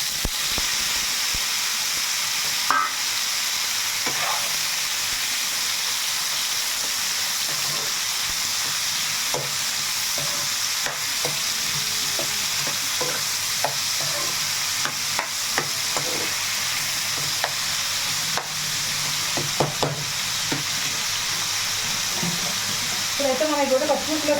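Tomatoes frying in a pan for a roti tomato chutney, a steady close sizzle with occasional stirring clicks and scrapes throughout, no talking over it.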